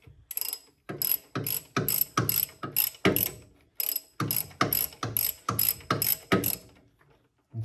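Ratchet wrench working a starter bolt on a 1964 Chrysler New Yorker engine, a quick series of loud, close clicking bursts in steady rhythm with brief pauses between strokes, no talking.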